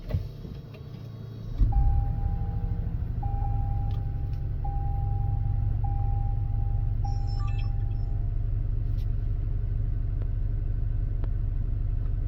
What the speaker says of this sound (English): Now, let's go ahead and turn on the vehicle.